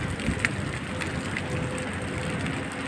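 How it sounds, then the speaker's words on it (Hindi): Rain falls steadily outdoors after a run, a soft even patter with scattered nearby drops and a little wind, moderately loud with no talk. "और देख सकते हैं बारिश लगी हुई।"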